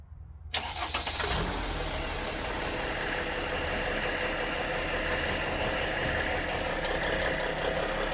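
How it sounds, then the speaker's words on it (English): A Mercedes Sprinter van's engine starts after a brief silence and then runs steadily at a close, loud idle during a transmission fluid flush, a constant low drone with no talking. "she's going to start the engine for 3 seconds forward, 3 seconds reverse"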